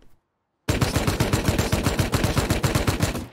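Video game gunfire in a survival-shooter raid: after a brief silence, a rapid automatic burst of evenly spaced loud shots rattles on without pause, close and alone.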